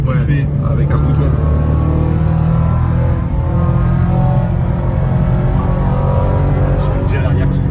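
Toyota GT86 with its exhaust valves open, a steady deep engine and exhaust drone heard from inside the car, running loud and unbroken throughout.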